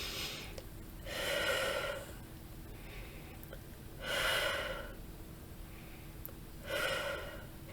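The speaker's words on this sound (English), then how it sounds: "take 3 deep breaths" Three slow, deep breaths taken during a guided meditation, each a soft airy inhale-exhale swelling up at a steady interval, close and fairly quiet, with no talking.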